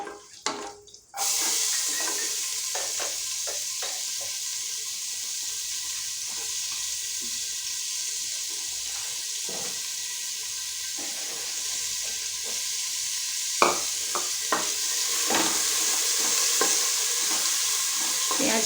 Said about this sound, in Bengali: পেঁয়াজটা অল্প একটু লালচে মতন আমি ভেজে নেব।